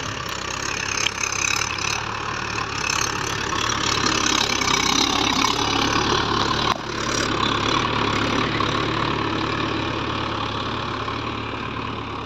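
A new tractor's diesel engine idling at a steady low rumble, close and continuous throughout, with outdoor ambience around it.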